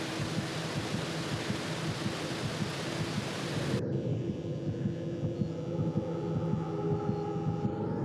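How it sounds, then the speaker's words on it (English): A deep, throbbing heartbeat plays in a found-footage horror video, low and muffled under a constant hum. A broad hiss drops away partway through, leaving steady low pulses. "this heartbeat."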